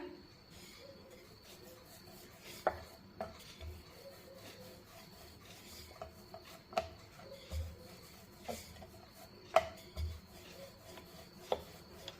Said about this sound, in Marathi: हलक्या हाताने थोडंसं प्रेस करूया आणि याला लाटून घेऊया